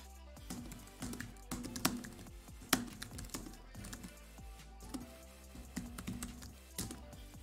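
Irregular bursts of key taps from a computer keyboard, quiet and close, some clustered presses and occasional louder clacks with brief pauses between them.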